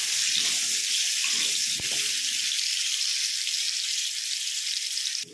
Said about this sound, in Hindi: अब हम इसी तेल में आलू को भी फ्राई कर लेते हैं।